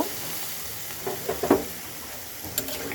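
Water is added to a potato and cauliflower curry frying in a pan, making a steady, moderate sizzle with a few brief splashing bursts midway and near the end, close up with no voices.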